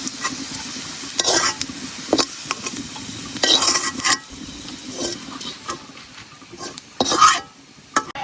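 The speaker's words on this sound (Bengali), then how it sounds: "পেঁয়াজ রসুন গুলো আমি বাইরে নিছি এখন এগুলো উড়াই নিতেছি" Onions and garlic frying in a pan, with loud scraping and clattering stirring strokes that come in bursts over a continuous sizzle, and no voices.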